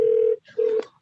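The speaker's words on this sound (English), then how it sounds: "That was me ringing your phone." Two short electronic telephone ring tones, a steady beep followed by a brief pause and a second beep.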